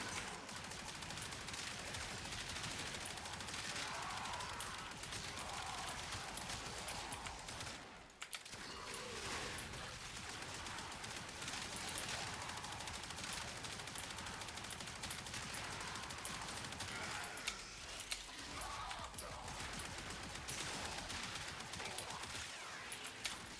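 Athodai primary-fire gunshots in the game Warframe, dense continuous rapid fusillade of shots with one brief pause, steady and loud throughout, mixed with game effects.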